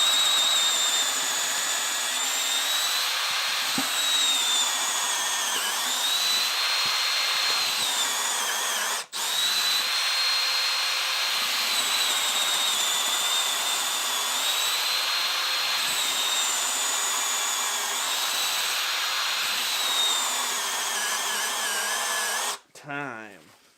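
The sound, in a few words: Milwaukee drill driver drilling holes at speed 1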